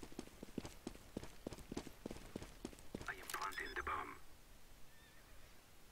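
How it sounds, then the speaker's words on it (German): Horse hooves clip-clopping in the CS:GO video game, a steady run of sharp, evenly spaced hoof strikes up close, followed by a brief horse whinny near the end. "Da sind Pferde!"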